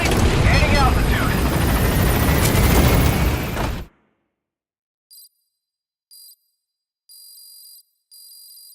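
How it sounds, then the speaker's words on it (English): In Metal Gear Solid V, a helicopter climbs with a loud, steady rotor roar close by, under a radio voice, before it cuts out abruptly, followed by a series of short electronic beeps. "This is B-Quad. On station at LZ. Gaining altitude."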